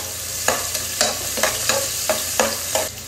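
Ginger, onion and garlic are sautéed in a pan, with a steady sizzle broken by a regular series of about eight stirring scrapes and clacks of a spatula, close and with no talk.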